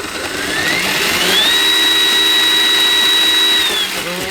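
An RC car's electric motor spins up at forward speed, a whine rising in pitch, holding a steady high tone, then winding down, close and loud with no voices.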